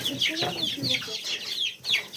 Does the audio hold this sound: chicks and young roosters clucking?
yes